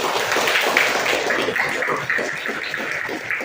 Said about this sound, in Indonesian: tepuk tangan untuk Dea